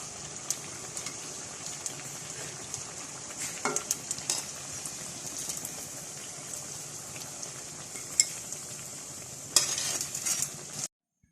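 Cone samosas fry in hot oil with a constant fine hiss and occasional soft clinks and stirring knocks, ending abruptly in silence.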